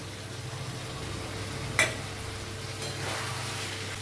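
Chicken being sautéed with ground spice powder that was first dry-roasted in an earthenware pan, for a spicy Bengali chicken curry. A low, steady sizzle hisses throughout, broken once by a sharp knock of a utensil against the pan.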